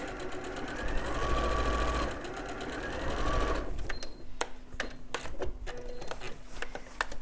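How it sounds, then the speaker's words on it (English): A sewing machine stitches quilt fabric in a fast, steady whir for several seconds, then stops. Short clicks and faint handling sounds follow as the fabric is adjusted. "sew to the corner, reverse stitch"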